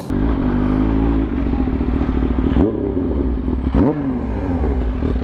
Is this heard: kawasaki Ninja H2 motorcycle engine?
yes